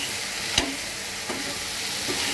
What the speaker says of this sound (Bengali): তো এটাকে আমি এখন সুন্দর করে নেড়ে দেই।